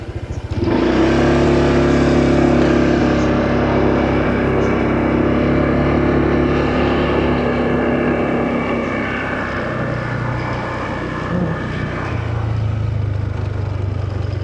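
Motorcycle ridden along a mountain road in Bakun, Benguet, its engine a steady loud drone with wind rush throughout, the pitch shifting slightly as the rider works through gears.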